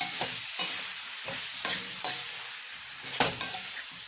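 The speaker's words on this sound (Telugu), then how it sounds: "ఇప్పుడు దీంట్లోకి మనం ఫ్రై చేసి పెట్టుకున్న మునక్కాయలు వేసుకుంటున్నాం. వీటిని బాగా కలుపుతున్నామండి." Fried drumsticks being stirred through a tomato masala in a frying pan: a steady sizzle with several distinct scraping strokes of a spatula against the pan, close and fairly loud, no talking.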